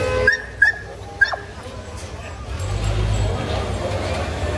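A German Shepherd at a Friday dog market yips and barks in a few short, sharp bursts close by, over a noisy crowd murmur and rumble.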